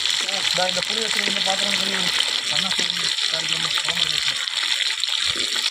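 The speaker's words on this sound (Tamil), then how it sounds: "மீன் வறுவலுக்கு உண்டான மீன் பொரிக்குது" Ayala (mackerel) fish sizzles steadily in hot oil while a person talks over the constant frying hiss.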